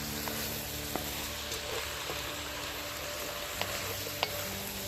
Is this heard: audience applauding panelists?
no